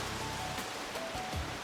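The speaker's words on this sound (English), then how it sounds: "This clear roof stops the rain from getting on our appliances." Rain falls steadily on a clear roof sheltering appliances at an off-grid garden home, a dense, even patter of drops with no pauses and no voices.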